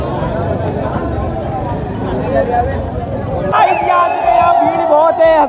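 A large crowd gathered outside a cinema before a Pathaan screening, a steady wash of overlapping voices and babble close around. A brighter, tonal surge of shouting or cheering rises over the hubbub near the end.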